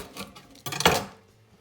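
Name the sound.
knife cutting onions in half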